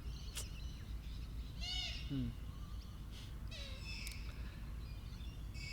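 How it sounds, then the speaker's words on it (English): Birds call sporadically outdoors, short chirps and whistled notes scattered over a steady low background rumble. "The birds have a lot to say."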